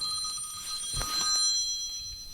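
A phone ringing with an incoming spam call near a fishing spot, a thin repeating electronic ring tone over quiet outdoor background, with no one talking.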